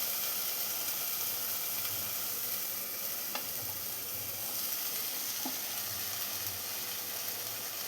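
Fried bitter gourd sizzles steadily in a pan while it is mixed with sugar, a constant close hiss with a few faint stirring clicks and no talk.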